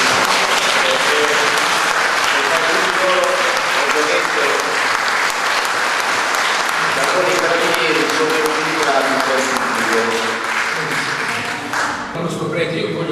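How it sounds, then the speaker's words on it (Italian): An audience at a book presentation in Matera applauds a squad of carabinieri, dense sustained clapping filling the room for about twelve seconds, with voices faintly mixed in before it thins out at the end. "volevo semplicemente che il pubblico dedicasse un applauso a questa squadra meravigliosa"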